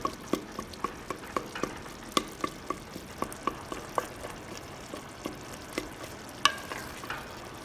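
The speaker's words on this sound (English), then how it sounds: "So we'll just make sure we mix it well and make sure it's not burnt, and crush it a little bit more." Fava beans being stirred and crushed in a clay pot for foul mudammas, a steady series of sharp scraping and knocking strokes at an even pace, with a faint sizzle underneath and no talking.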